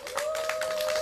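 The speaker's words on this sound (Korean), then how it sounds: "전영민님께도 다시 한번 더 따뜻한 박수 한번 부탁드리겠습니다." A brief burst of audience clapping at an evening candlelight gathering in Seongju, quick overlapping claps lasting about a second.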